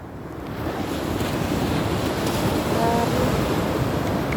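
Ocean waves rolling in at a beach resort shore in Batangas with boats nearby, a loud continuous roar of surf with strong wind buffeting the microphone, building in the first second and then holding steady.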